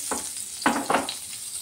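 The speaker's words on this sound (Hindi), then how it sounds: "बटर को हम अच्छे से मेल्ट कर लिए" Butter sizzles and crackles in a hot pan, with a few brief louder bursts as it is stirred, then settles into a steady soft fizz.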